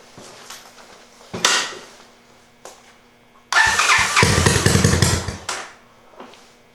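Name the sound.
Honda Fourtrax 200SX quad engine starting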